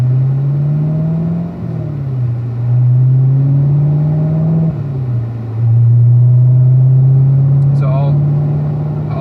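Corvette engine at a Spring Mountain driving school, steady engine drone with dips where the revs blip up and settle on downshifts, heard from inside the car under a speaking voice.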